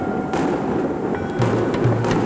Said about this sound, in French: Les feux d'artifice, c'est parce qu'on fêtait la veille du Nouvel An chinois, ou la fête du printemps.